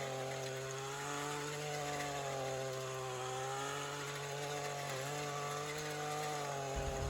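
A garden cultivator runs in soil while working peat moss into a backyard blueberry planting, giving a steady, buzzing small-engine drone throughout at moderate loudness with no talk.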